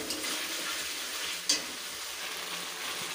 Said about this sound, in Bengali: লবণ হলুদ দিয়ে মশলাটাকে ভালো করে আবার নেড়ে নেব